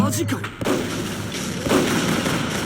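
Gunfire in the online shooter game MicroVolts: Recharged: a loud, close, dense barrage of booming shots that runs almost without a break through the whole moment.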